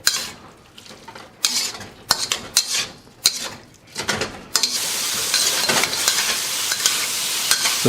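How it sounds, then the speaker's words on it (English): A Chinese restaurant dish being stir-fried on a sizzling hot plate: metal utensils clatter and scrape in bursts, then a loud, steady sizzle takes over for the last few seconds, no talk. "So give this a last stir fry because you want to get this dish really nice and hot on the sizzling hot plate."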